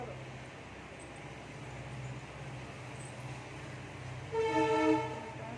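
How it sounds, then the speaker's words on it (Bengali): A train passing by at a distance, a low steady rumble with a horn sounding near the end, fairly faint, with a voice and other talk nearby. "ওই যে ট্রেন যাচ্ছে।"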